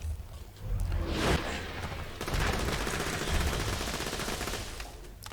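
Rapid bursts of video-game gunfire as Maya battles an enemy in Borderlands 2, loud and sustained across the whole stretch with dense overlapping shots and a brief swish midway.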